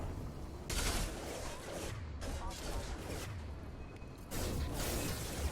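Ship weapons firing in the Mass Effect Legendary Edition video game, dense roaring bursts of gunfire and mechanical blasts in two loud waves with a brief lull between.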